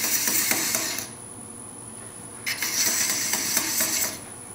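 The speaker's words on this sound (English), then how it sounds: "just going to have her tool traverse across that piece of wood" A thread chasing tool cuts threads into a wooden piece turning on a lathe, making two bursts of close, scratchy scraping separated by a brief quieter pause.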